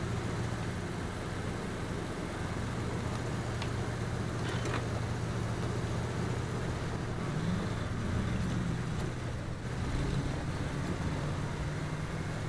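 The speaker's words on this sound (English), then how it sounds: "Engine sounds are extremely nice too." Steady low engine drone of a modded Volvo C303 4x4 truck in the SnowRunner video game, a constant rumble with a few faint clanks over it.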